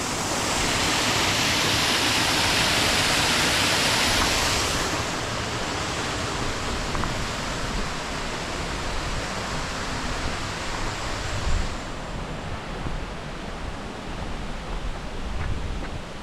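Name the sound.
water rushing over a weir at Stopes Mill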